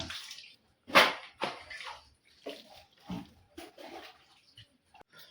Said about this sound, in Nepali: साथीहरू अब भाँडा पनि धोइसक्नु लाग्यो